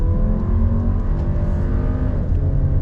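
A 2021 VW Atlas 2.0T 4Motion SUV accelerates on throttle after a U-turn under an overpass, its engine droning loud and close with a steady, rising hum and no talking.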